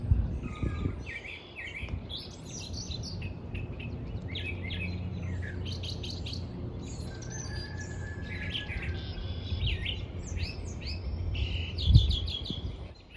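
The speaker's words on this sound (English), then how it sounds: "There is a mockingbird just going crazy right now." A mockingbird sings continuously nearby, running through varied chirps, trills and whistled phrases in quick succession, with low background rumble and no talk.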